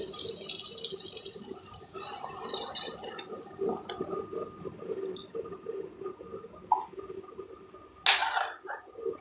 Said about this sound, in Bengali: এখন আমি সিদ্ধর জন্য পানি দিয়ে দিচ্ছি।